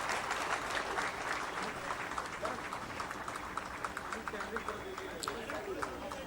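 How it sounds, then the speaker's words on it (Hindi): Enthusiastic applause from a ceremony crowd honouring a young painter at a national art exhibition awards event. Dense, continuous clapping fills the whole stretch at an even level, with no voices standing out. "जोश भरी तालियां हम तक पहुंच रही हैं।"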